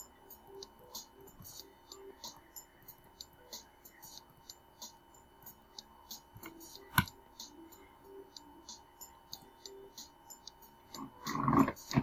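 Repeated mouse clicking during a point-and-click puzzle game, a steady string of small sharp clicks at irregular intervals under soft whispered talk, with one louder tap and a burst of noise at the end.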